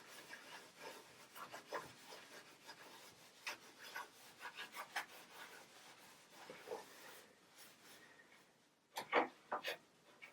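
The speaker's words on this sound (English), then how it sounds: "all these parts that I'm polishing now would have been machine cut" Cloth rubbing natural polish by hand into carved, machine-cut wood parts, a soft rasping rub repeated in uneven strokes, close and fairly quiet, with a few sharper scrubbing bursts near the end.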